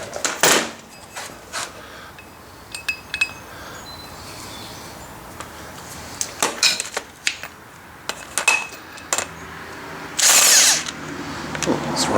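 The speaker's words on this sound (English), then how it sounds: "I'll just take the lug nut, put it on backwards, and then hit it with the impact." An impact wrench drives a lug nut fitted backwards to pull a new wheel stud into a commercial mower hub. It comes as a series of short rattling bursts mixed with metallic clanks, ending in one louder sustained burst near the end.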